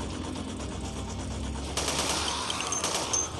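Gunfire in the shooter game Dead Effect 2, a dense rattle of rapid automatic shots that grows louder and harsher partway through, with no talking.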